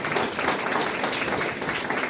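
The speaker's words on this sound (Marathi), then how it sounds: "सरांसाठी जोरदार टाळ्या व्हायला पाहिजे" A seated audience claps together for a guest speaker, a short, even wash of applause lasting about two seconds with no voices over it.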